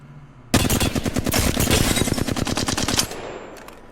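A Flatline assault rifle firing at medium range in Apex Legends: one sustained loud automatic burst of rapid, evenly spaced shots lasting about two and a half seconds, then a fading tail.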